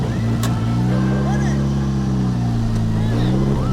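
A 369 bhp turbo VTEC Mini and a 376 bhp Locost kit car idle and rev at the line before a drag race, a loud steady engine drone with rising rev swells throughout.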